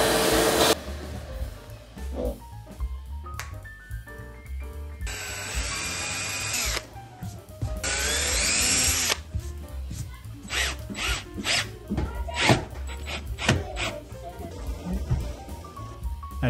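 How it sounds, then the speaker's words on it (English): A vacuum cleaner runs while garage storage cabinets are cleaned after installation, a steady loud whine with bursts as the nozzle shifts, broken by short clunks and pauses. No one speaks. "I know vacuum cleaning sucks, but somebody's gotta do it."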